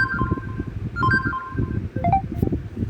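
Notification chimes from a Samsung Galaxy A10 phone: short, bright electronic tones in quick melodic clusters, loud and close over a soft rustling background.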